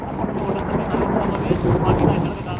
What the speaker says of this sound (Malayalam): നല്ല മഴയും നല്ല കാറ്റും